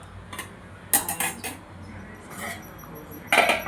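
At a home family dinner of paratha and salad, a mother serves food, and plates and cutlery clink in several sharp, close bursts while people talk.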